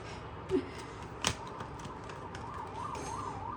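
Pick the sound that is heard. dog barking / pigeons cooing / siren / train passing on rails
siren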